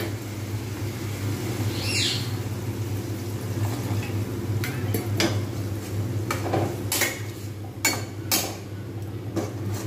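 Cooked spices stirred in a pot after water is added, giving a steady bubbling simmer with intermittent metal spoon scrapes and knocks against the pot, and a brief bird-like chirp early on.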